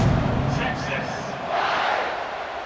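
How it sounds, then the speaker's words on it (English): A stadium crowd in EA Sports College Football 26 buzzes just after a score, ahead of a kickoff: a dense, steady roar of many voices that swells slightly midway and holds at a fairly loud level. "this crowd is buzzing after that last score"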